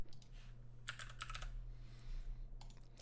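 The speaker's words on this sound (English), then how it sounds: "We can type in AMGN." Keys clatter on a computer keyboard in short quick bursts, a fast run of typing followed by a few scattered keystrokes, close and moderately loud over a steady low electrical hum.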